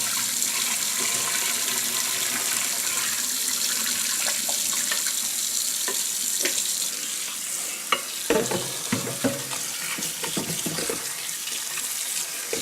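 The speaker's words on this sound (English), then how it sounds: "So I'm going to rinse these once" Running tap water pours steadily into a kitchen sink as soaked food is rinsed, a dense close splashing hiss with occasional knocks and sloshes toward the end.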